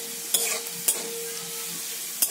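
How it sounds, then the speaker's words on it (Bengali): Garlic frying in a pan until browned, for an eggplant dish, makes a steady close sizzle broken by three sharp scrapes of a spoon stirring against the pan. "তো রসুনটা আমি আরেকটু ভালো করে লাল করে ভেজে নিচ্ছি।"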